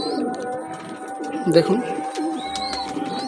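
Young Chinia and Kaldama cross pigeons coo in soft, repeated throaty burbles close by while someone talks over them.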